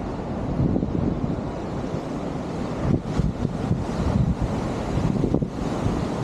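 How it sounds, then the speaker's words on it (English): Ocean surf at San Juan, a continuous roar of breaking waves with gusts of wind buffeting the microphone, fairly close and steady. "you can see the beautiful ocean behind me"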